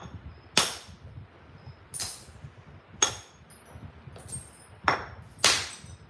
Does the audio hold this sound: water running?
no